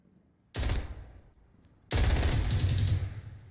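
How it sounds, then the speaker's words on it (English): Shotgun fire in the online shooter Zero Hour during a competitive match: two loud, close blasts, the second longer with a sustained rumbling tail. No voices. "Slittyfungus with the shotgun kill on Zombey."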